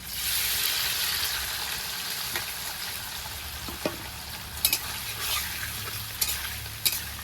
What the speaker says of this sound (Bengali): আলু ভেজে নামিয়ে দিয়েছি, এখন আমি পনিরটা ভেজে নেব।